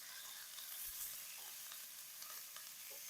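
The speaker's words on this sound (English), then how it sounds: "sizzle. That's the kind of sound that we would like." Food sizzling in a very hot pan, a dense, loud crackling hiss with faint stirring scrapes, steady throughout and with no voices.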